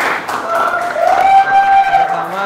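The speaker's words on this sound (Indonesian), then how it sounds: "tepuk tangan untuk kita semua" Applause from an audience at the close of a teacher training class presentation, a steady wash of clapping lasting a couple of seconds.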